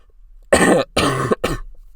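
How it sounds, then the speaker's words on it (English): Three sharp coughs in close succession, loud and near, separated by short pauses. "let me cough"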